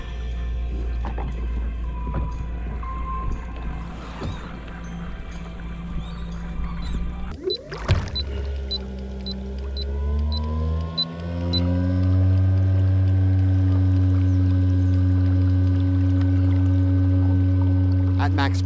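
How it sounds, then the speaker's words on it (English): Bixpy J-2 electric motor driving a kayak, a tonal electric whine that spins up sharply midway and then holds a steady, fairly loud hum, with talk and water noise before it starts. "the amount of noise that the motor put off."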